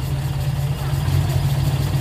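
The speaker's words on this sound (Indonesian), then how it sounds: "Mesinnya halus teman-teman." A 1983 Toyota Kijang Kotak, a boxy old car, idles with a steady low engine hum close by. The running is smooth and even, with no revving and no speech.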